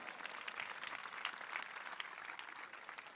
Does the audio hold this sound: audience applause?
yes